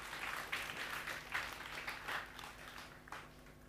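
A small group claps at a Saturday morning talk, a quiet, loosely spaced patter of hands that rises in soft bursts and tapers off toward the end under a faint background hum.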